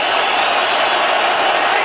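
Loud football stadium crowd in Miami Gardens during a third-down play in an NFL game between the Tennessee Titans and Miami Dolphins, a steady dense roar filling the whole stretch with no breaks.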